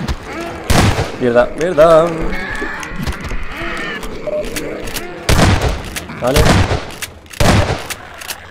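Shotgun blasts in the video game Half-Life 2, several loud sharp reports spaced a second or two apart amid game sounds, with someone talking over them.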